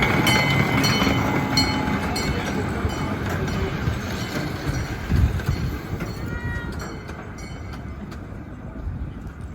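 A zoo train hauled by a silver locomotive numbered 340, its cars rumbling and clattering along the track in a continuous moderately loud roll with rhythmic clicks, fading slightly toward the end.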